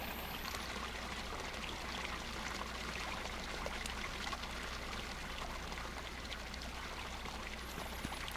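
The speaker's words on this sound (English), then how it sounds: "it has a nice little stream going through it" Water from a small waterfall pours and trickles steadily along a little stream in the Second Life virtual world, a constant, even rushing that holds throughout with no voices.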